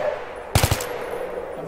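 Gunfire in the Battlefield video game: one quick burst of about three sharp shots in rapid succession, loud and close, over a steady low background hum.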